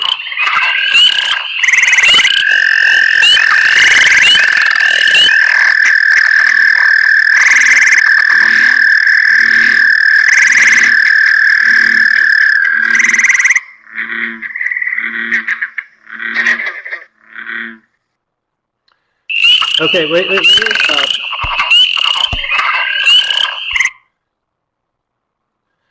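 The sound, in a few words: frogs croaking at a pond, spring peeper and bullfrog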